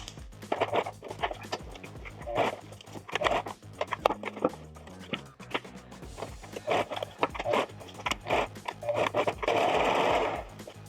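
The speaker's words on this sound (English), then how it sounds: "it's pretty handy to have a sewing machine to do this" A sewing machine runs zigzag stitches in bursts of rapid mechanical stitching, pausing between runs, close and clear with no talking.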